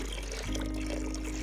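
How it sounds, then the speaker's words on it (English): Water from a heavy 20 litre container tips straight into the wide mouth of a 48 litre camper water tank, a steady close gush that runs unbroken without talk. "we can just tip this 20 litre one directly in"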